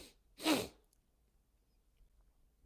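One loud, close sneeze bursts out sharply from near silence, followed by quiet breathing and faint rustling.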